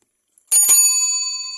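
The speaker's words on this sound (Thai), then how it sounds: "กระดิ่งงานนอกนะครับดังดีมาก" A bell on a vintage Humber England men's bicycle with 28-inch wheels gives one bright, close ring, then a long clear metallic shimmer that slowly fades, alone in an otherwise silent setting.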